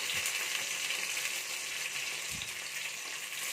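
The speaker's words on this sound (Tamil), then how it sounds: "கொத்தமல்லி புதினா சேர்த்துக்கலாம் அதோடவே பச்சை மிளகாயும் சேர்த்துடலாம்" Coriander, mint and green chillies fry with onions in oil for veg biryani, giving a steady soft sizzle up close with a couple of faint stirring scrapes, no voices.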